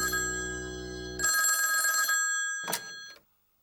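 A telephone rings in two bursts of bright electronic tone, close and clear, followed by a short clatter as it is picked up, then silence.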